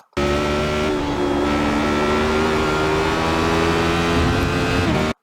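Radical SR8 race car engine droning loud and steady at high revs through a lap of the Spa circuit, with a slight pitch rise and sustained onboard roar throughout.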